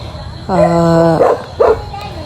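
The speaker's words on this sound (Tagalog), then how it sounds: "Ang ingay talaga ng aso." A dog gives a drawn-out whining bark followed by two short, sharp barks, close and loud.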